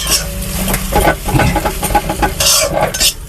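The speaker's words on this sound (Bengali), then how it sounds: "এবারে আমি ডিমটা ভেজে নিচ্ছি।" Fish roe frying in a pan makes a loud, close sizzle with rhythmic spatula scraping and clatter against the pan throughout.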